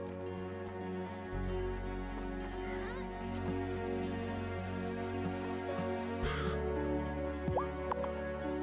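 A crow caws in the game Wylde Flowers over a steady background music bed, the calls light and brief with a short rising chirp near the end and speech nearby.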